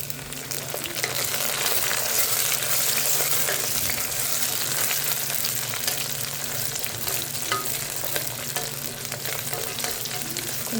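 Green chillies sizzle and crackle in hot oil in a pan for chicken curry, a loud steady frying hiss with occasional stirring scrapes, up close.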